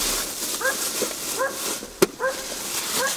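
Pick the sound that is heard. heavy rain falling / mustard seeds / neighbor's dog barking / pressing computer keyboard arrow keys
neighbor's dog barking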